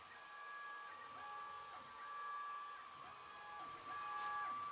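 A diode laser engraver head moves while framing a brass piece, giving faint, quiet stepper-motor tones in short repeated runs with small pauses between them.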